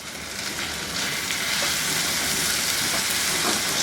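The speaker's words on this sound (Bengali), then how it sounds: "এই মিনিট খানেকের মধ্যে আদা রসুনগুলো ভাজা ভাজা হয়ে গেলে আমি এর মধ্যে দিয়ে দিব 2টা বড় সাইজের টমেটো" Chopped tomatoes hit hot oil with fried ginger and garlic for a railway chicken curry, a loud, steady sizzle and crackle of frying that continues unbroken without any talking.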